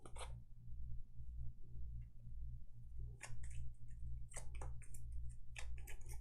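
Gloomhaven: Jaws of the Lion board game cards are shuffled at close range, quiet riffling flutters and card slaps coming in short bursts over a steady low hum.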